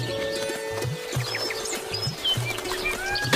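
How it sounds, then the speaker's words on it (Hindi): A flock of birds chirps in short, scattered tweets against a steady background in a cartoon story, with faint rhythmic knocks underneath. "इतना कहकर जादुई चिड़िया अपने झुंड के साथ वहां से उड़ती हुई चली गई।"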